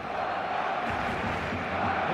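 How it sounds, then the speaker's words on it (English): Stadium crowd roaring in an eFootball match between FC Barcelona and Brazil, a dense, steady wash of cheering sustained throughout, with a commentator's voice faintly mixed in. "Certainly gave this crowd something to really cheer about."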